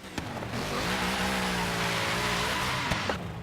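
A Mercedes-AMG GT-S engine in the racing game Forza Horizon 3 revs up with a rising harmonic roar, then holds at a loud steady pitch before cutting off, close and alone.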